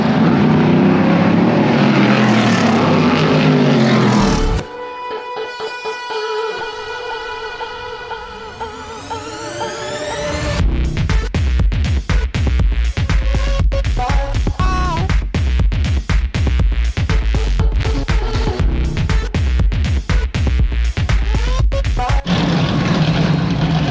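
NASCAR race cars roaring around the track during qualifying, a loud sustained engine drone with a rising, sweeping whine as cars pass close by, dipping briefly then returning to a dense, continuous roar.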